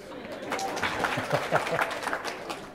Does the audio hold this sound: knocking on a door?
no